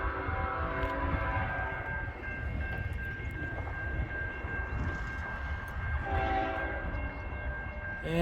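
A CN freight train at Ladysmith rumbles steadily past nearby while its horn sounds a long sustained tone, with a further horn blast near the end over the rolling railcars.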